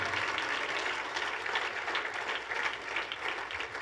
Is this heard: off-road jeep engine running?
no